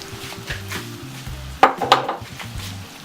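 A spoon clatters against a pot while ugba is stirred into palm oil, two sharp metallic knocks standing out over low background hum, with no talking.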